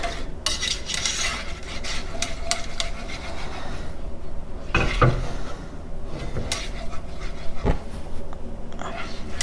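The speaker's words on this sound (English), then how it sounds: "So I'm just going to whisk all this together really well." Keto egg custard mixture being whisked in a bowl, a continuous busy clatter of whisk against the bowl with sharper clinks throughout, close and fairly loud.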